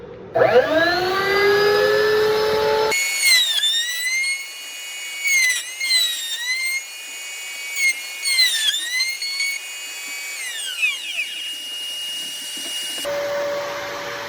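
A router on a router table with a flush trim bit whines at high speed, then repeatedly bites into wood in short cuts, its pitch dipping and recovering with each pass before winding down.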